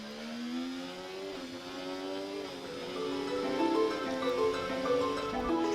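A Formula 1 car in a racing video game on a final qualifying lap around the Saudi circuit, a steady high engine whine climbing through gear changes, close and continuous for the whole stretch.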